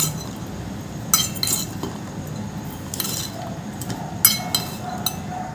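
A spoon clinks against a bowl while chickpea salad with salt is mixed, giving scattered light, bright taps at an uneven rhythm over a quiet background.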